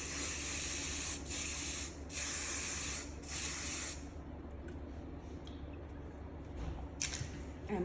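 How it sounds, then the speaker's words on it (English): Four long bursts of aerosol spray hiss as paint is sprayed onto an artwork of a lilac-breasted roller, close and loud, separated by short pauses, then quiet room noise with a faint rustle. "Then we're going to spray again."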